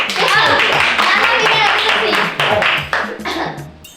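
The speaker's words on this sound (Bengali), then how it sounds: "যখন সবাইকে নাচবে সময় হাতে তালি দিবে" Hand clapping keeps time through a children's dance class, with voices talking over the claps, which grow sparser and quieter toward the end.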